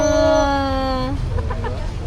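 A chicken gives a drawn-out, tonal call lasting about a second, then breaks into a few quick, short clucks, fairly close and moderately loud with no talking.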